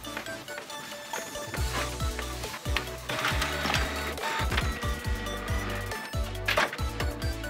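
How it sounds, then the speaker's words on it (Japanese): A 3D printer prints a product logo for a skeleton version of a table tennis paddle, its stepper motors whining and buzzing in quick, shifting mechanical patterns, close and steady throughout. "製品ロゴを印刷します。"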